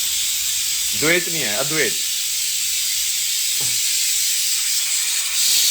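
A pressure cooker cooking chickpeas releases steam in a loud, continuous hiss that fills the whole stretch while someone talks over it.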